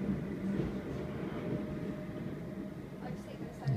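A train at Purley Oaks station gives a low, steady rumble throughout, fairly quiet and even, with a faint tonal hum on top.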